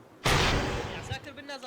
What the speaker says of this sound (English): as a second shot is heard